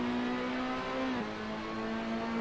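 A Ferrari P4/5 on the Laguna Seca race track holds a steady, loud engine drone from close by. The pitch dips briefly midway and then settles at a slightly lower, even tone.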